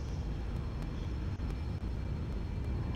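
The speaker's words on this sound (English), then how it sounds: "the Airbus engines are not quite as powerful as the 737's engines" Airbus airliner engines roaring steadily during takeoff, a loud, continuous broadband rumble and whoosh with no breaks or talking.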